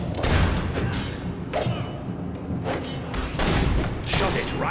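Gunfire striking a creature during Fable III combat: loud, dense bursts of shots and heavy booming thuds overlap in quick succession, with brief lulls between volleys.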